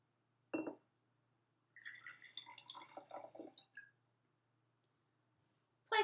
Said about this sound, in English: let's experiment with what happens when we pour out some of the water